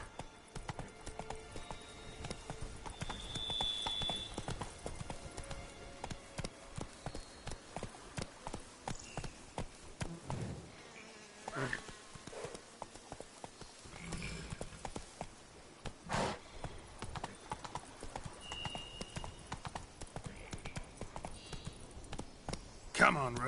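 Roach the horse galloping in The Witcher 3, hooves drumming in a steady rapid clip-clop close by, with brief pauses, a whinny and scattered game sounds around it.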